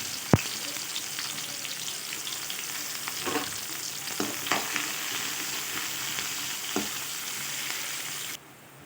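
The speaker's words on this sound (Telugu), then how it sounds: "చిన్న చిన్నగా కట్ చేసుకుని ఉల్లిగడ్డ ముక్కల్ని వేసేసుకొని కొంచెం దూరగా వేయించుకుందాము" Chopped onion pieces fry in hot oil with a steady, close sizzle, a few stirring scrapes and taps rising above the hiss before it cuts off at the end.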